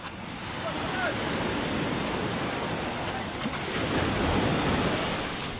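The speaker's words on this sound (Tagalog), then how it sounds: "nilalakad natin abot ng alon" Ocean surf washing in a steady roar, with waves swelling louder toward the end, mixed with wind buffeting the microphone.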